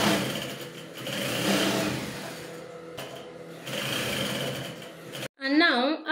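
A sewing machine stitches a twisted knot top in two steady, close runs of rapid whirring separated by a brief pause. A voice follows at the end.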